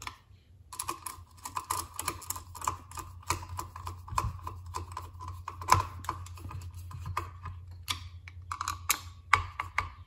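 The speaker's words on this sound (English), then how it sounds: "Tighten our rotor screws back up." Small screws on the rotor of an MSD Pro Billet distributor for a Ford FE engine being tightened, giving a run of quick, close, light metallic clicks and ticks at an uneven pace with no talk.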